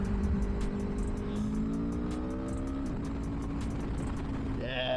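A 2024 Aprilia Tuono V4 1100 motorcycle engine revs up and holds a steady, throaty high idle, loud and close, with a climbing pitch toward the end.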